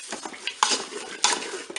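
Apricots, sugar and water stirred in a Cookeo pressure cooker pot, a quick run of spoon scrapes and metallic clinks against the bowl, close and brief.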